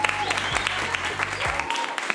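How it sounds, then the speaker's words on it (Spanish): An audience claps to welcome a guest, a brisk, moderately loud patter of applause with a low hum beneath it that drops out near the end. "recibámoslo con aplauso"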